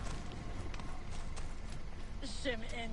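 Horse hooves clip-clop steadily as a rider travels in the Assassin's Creed Origins video game, set in ancient Egypt, with someone talking over the galloping rhythm and a brief neigh near the end.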